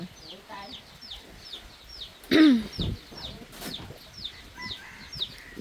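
A chicken clucks nearby in short, repeated calls, with other bird chirps and people talking in the background; one louder burst of sound stands out midway.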